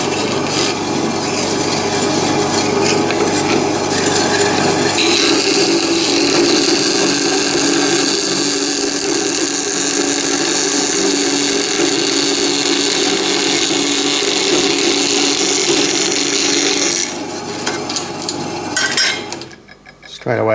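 A DIY bandsaw cutting through 3mm thick aluminium stock, a loud steady grinding, rasping whine that holds for about seventeen seconds, then trails off and stops near the end.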